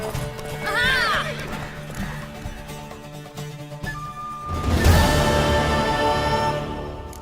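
A horse in The Witcher gallops and neighs loudly, a shrill whinny near the start and a heavy burst of hooves later, with background voices.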